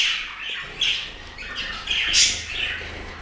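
Finches call and chirp inside an indoor bird room, a run of bright, overlapping tweets and squawks at close to moderate distance, rising to a louder call near the end, with no talking.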